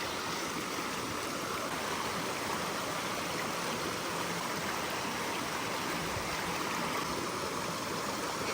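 Rushing stream water at a crossing on a hiking trail near Dunn Falls in Maine, a steady, close, broadband splash and gurgle that continues without a break and with no voices.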